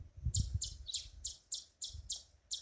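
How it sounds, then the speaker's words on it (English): Bird chirps repeat in a steady rhythm in the countryside, about eight short bright calls, with low rumbling in the background. "The sound of the birds is the most important thing for me."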